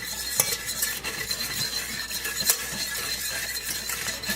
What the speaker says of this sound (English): put it at a lower temperature and just keep stirring, and it will thicken up just like a caramel sauce